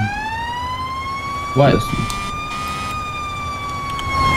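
Ambulance siren in the video game Arma 3, a steady rising and sustained wail held throughout, with people talking briefly over it.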